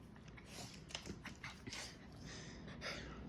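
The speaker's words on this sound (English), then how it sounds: "We got our biggest dog just chilling while these two are fighting." Dogs play-fight up close at home, with panting, snuffling and soft mouthy bites in uneven bursts, fairly quiet throughout.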